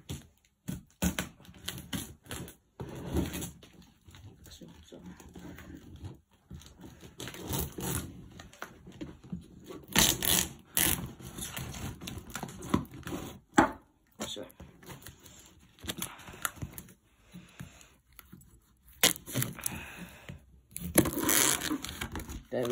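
Packing tape being cut and torn on a Hiboy S2 e-scooter box, heard as scattered crackling rips and scraping bursts close by, with quiet gaps between them and a person speaking at times.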